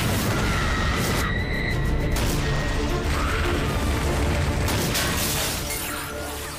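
A huge explosion blows up a fictional five-star hotel set for a German telenovela, heard as a loud, sustained roaring blast with crashing, shattering debris that slowly fades toward the end.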